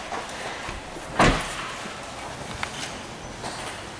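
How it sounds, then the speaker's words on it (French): Rear side window of a Renault Twingo 0.9 TCe being swung open, a single short mechanical clunk near the start, then quiet room tone with a faint click later. "les vitres arrière, hop, vous pouvez les ouvrir comme ceci"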